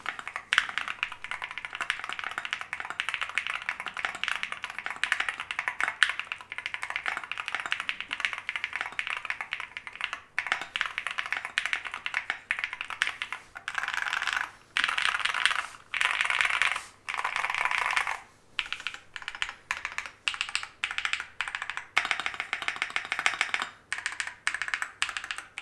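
Fingers type on a Luminkey Magger60 HE hall effect keyboard in rapid, continuous clacking that sounds loud and metallic, then breaks into separate bursts of keystrokes with short pauses between them.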